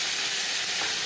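Cumin seeds frying in hot oil for a light summer fish curry, giving a steady, loud, close sizzle that fills the moment without pause.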